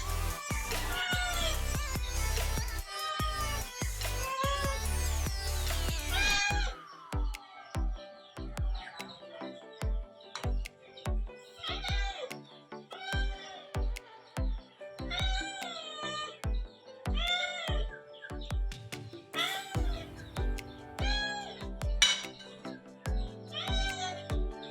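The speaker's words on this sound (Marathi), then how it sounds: "मांजरा बघा कशी जपतं." A cat meows repeatedly in a rainy Konkan home setting, a series of separate, fairly close, rising-and-falling cries spaced a second or two apart, after a stretch of louder mixed sound at the start.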